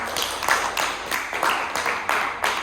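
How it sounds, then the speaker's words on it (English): Audience applause closing the round 4 results of an English school debate selection in Kota Mojokerto, a steady patter of hand claps in a hall with faint rhythmic pulses. "Give applause."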